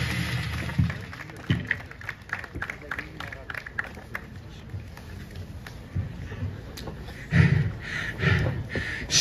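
At a ringside pro wrestling title match, scattered audience clapping rises and falls in uneven bursts beneath someone speaking over a microphone, swelling louder near the end.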